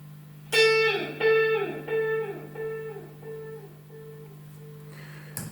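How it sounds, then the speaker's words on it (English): Guitar note through an Echolette NG 51 tube tape echo, tone control at its middle position, followed by a trail of about seven evenly spaced repeats that soften and darken as they fade, over a steady low hum. "the tone control affects the darkness or brightness of the repeat"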